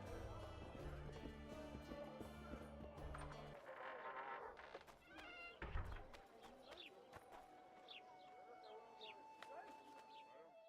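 Roach, Geralt's horse in the video game Witcher 2, clip-clops away in a short run of hoofbeats under game ambience and music, with a voice speaking over the start.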